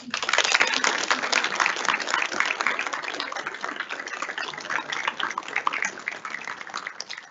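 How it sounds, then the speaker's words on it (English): Banquet audience at a university honors dinner applauds steadily, a dense, sustained burst of many hands clapping throughout, fairly loud and close. "let's give your support team a huge round of applause"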